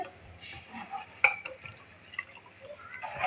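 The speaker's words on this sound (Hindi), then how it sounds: "अब हम इसमें और पानी शामिल करेंगे।" Water is poured into kadhi cooking in a pot, giving light splashes and trickling drips with a few sharper clinks against the vessel, fairly faint and close.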